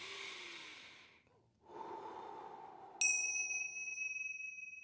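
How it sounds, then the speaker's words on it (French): A singing teacher demonstrates relaxed breathing with a slow, close breath in and a long breath out, followed by a bright ding that rings on over the final exhalation. "La vraie respiration, c'est la respiration du bonheur, la respiration de la détente."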